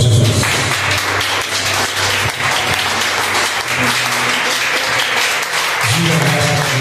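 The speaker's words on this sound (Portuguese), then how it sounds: "Fica de pé, vamos aplaudir o Senhor Jesus." A standing congregation in a Baptist church claps loudly and steadily in praise, with the dense applause filling the whole passage and some music or voices mixed in underneath.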